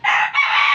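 A brief, loud rooster crow, close by and on its own.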